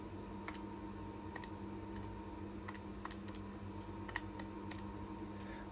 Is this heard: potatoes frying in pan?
no